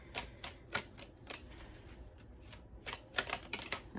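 Crisp bursts of tarot card shuffling, a series of riffling flutters with short pauses between them, close and moderately loud.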